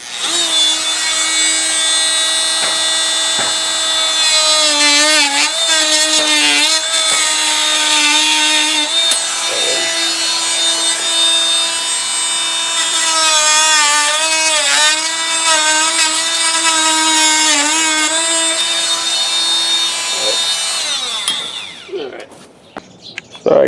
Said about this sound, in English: So I'm going to use my Dremel.